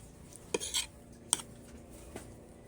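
Metal cutlery clinks against dishes during a meal, a few brief separate taps and scrapes spread over a quiet moment, close by and fairly soft, with no talking.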